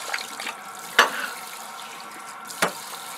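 Water rinses down a stainless steel utility sink being cleaned with citric acid descaler, a steady hiss of running water broken by two sharp knocks or splashes against the metal.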